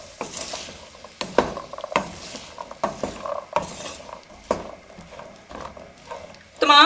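Chickpeas frying with masala in a kadhai, with repeated stirring scrapes of a spoon against the pan over a soft sizzle, close and fairly loud, ending in a brighter metallic clatter.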